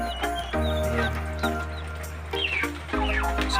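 Chickens of the African White breed, kept as breeders, cluck and call repeatedly at close range, with clucks and short cries layered over a steady low hum, no talking.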